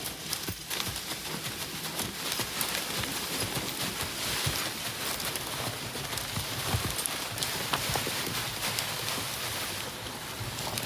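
A working horse walking during horse logging, its hooves clip-clopping steadily on the ground under a constant outdoor wash of broadband noise, no talking.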